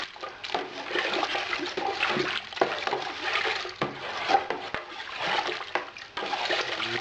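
Malt extract is stirred into brewing water, giving a steady sloshing and swirling of liquid with scattered knocks and scrapes against the pot, faint and continuous without talk.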